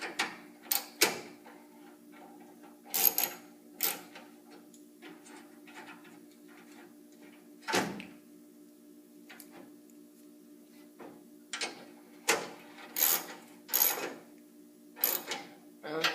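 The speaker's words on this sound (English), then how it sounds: "And then you just tighten the bolts." A 3/8 ratchet tightens the grille bolts on a 1966 Mustang, giving quick close bursts of clicking in separate runs with quiet pauses between them.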